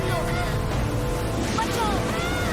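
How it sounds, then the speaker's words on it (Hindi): Stormy sea waves churn and surge around a boat in a continuous roaring wash, with gusting wind noise and steady low rumble throughout. "इन लहरों में हम नाव का नियंत्रण खो रहे हैं।"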